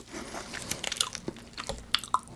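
Crunchy BHC Bburinkle cheese balls being bitten and chewed up close, a steady run of crisp crackles and sharp crunches with no talking.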